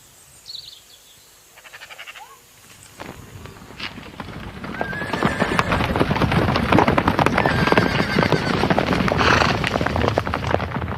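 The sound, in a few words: horse hooves clip-clopping and neighing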